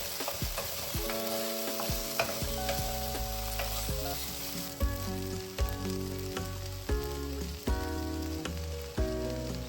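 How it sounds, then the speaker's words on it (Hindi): Mustard oil crackles and sizzles steadily as five kinds of whole spices fry, with a few stirring knocks and pops, close by and without talking. "5 types of spice, whole spice, वो छौंकना पड़ेगा मस्टर्ड ऑयल में"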